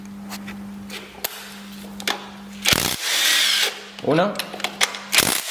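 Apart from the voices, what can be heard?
removing a 13 mm bolt on a VW 2.0 TDI engine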